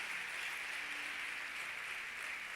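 A church congregation at a Sunday family communion service applauds, a faint, distant, steady wash of many hands clapping with no voices on top.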